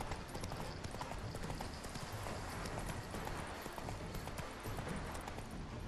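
Steady clip-clop of a horse galloping in The Witcher 3, a continuous rhythmic hoof pattern heard close and loud with wind-like game ambience, no talking over it.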